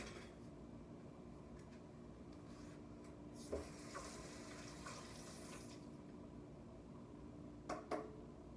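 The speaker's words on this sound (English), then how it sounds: "And always wash your dishes off." A ladle is rinsed under a running kitchen tap, with a faint steady water stream, a brief louder splash midway and a couple of light metallic clinks near the end.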